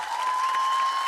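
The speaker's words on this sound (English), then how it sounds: "Give it a round of applause." An audience applauds a live performance of a song, a dense, steady wash of clapping with a faint sustained tone running through it.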